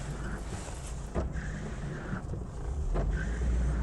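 Rain heard from inside a car driving along Adiala Road in Rawalpindi: a steady, dense wash of road and rain noise fills the cabin, swelling slightly louder toward the end, with no talking.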